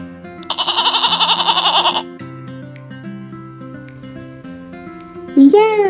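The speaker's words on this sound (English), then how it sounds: "Yeah, it's a goat." A goat gives one loud, quavering bleat with a rapid pulsing warble lasting about a second and a half, followed by a quiet soft background and a brief voice near the end.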